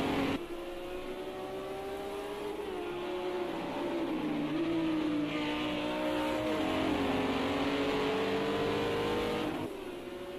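GT3 race cars, among them a Lamborghini, roar through a racing video game, a loud steady engine drone with rising and falling pitch as the cars accelerate and shift, heard alone without talk.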